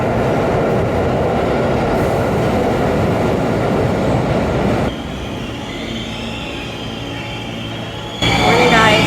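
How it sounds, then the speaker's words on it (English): A New York City subway train rumbles loudly along the tracks, a dense continuous roar that drops abruptly to a quieter hum partway through and then rises again at the end, with faint squeals. "we're in the subway in New York City"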